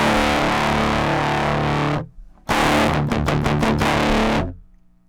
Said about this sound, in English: is I added a distortion on top of that.